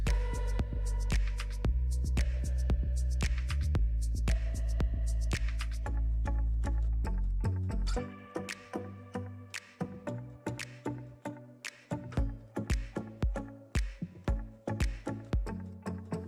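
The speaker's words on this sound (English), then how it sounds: "An efficient silage machine." A silage machine for animal feed runs with a loud, steady mechanical drone and hum, then shifts to rhythmic chopping thumps and clatter as tubers are shoveled in and cut, repeating about every half second.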